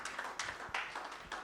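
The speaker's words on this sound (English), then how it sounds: "Please give her a round of applause." Scattered, faint hand clapping from a small conference audience welcoming a speaker, a few sparse claps over a brief moment with no talking.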